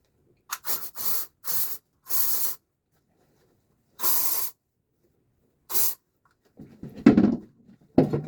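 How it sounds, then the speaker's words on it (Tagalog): Hair spray hisses onto freshly curled hair in several short, close bursts separated by silence, then a brief soft rustle of handling follows. "tapos i-sprayan natin"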